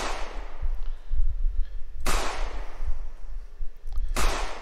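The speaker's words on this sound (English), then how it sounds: "and that was a hit, and get a little explosion." A cannonball strikes and sets off a small explosion in an Unreal Engine 4 game, heard as sharp bursts about two seconds apart over a rumbling low background.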